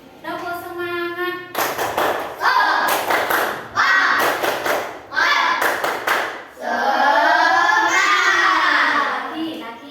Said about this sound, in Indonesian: Kita akan melakukan tepuk semangat